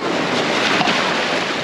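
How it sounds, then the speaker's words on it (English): Cold ocean waves washing in at a beach, a steady broadband wash of surf and wind noise, loud and close with a slight swell in the middle. "the wave's gonna come, all right?"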